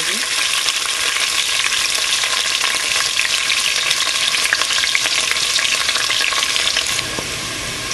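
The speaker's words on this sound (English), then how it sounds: "When it's hot and ready, you put in your onion." Onion hits hot oil and fries with a loud, dense, unbroken sizzle that stays close and constant throughout, softening slightly near the end.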